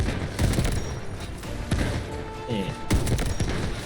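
Gunfire strikes and peppers the player's FSV wheeled tank destroyer in Delta Force, with several sharp bursts and thuds scattered through a dense game mix while voices talk over it.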